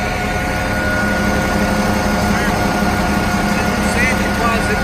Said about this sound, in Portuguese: Olha o barulho do motor.